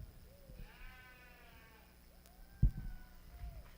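Sheep bleat in a long wavering call at a youth lamb show at the Laramie County Fair, moderately close, followed by a sharp thump and shorter bleats among arena noise.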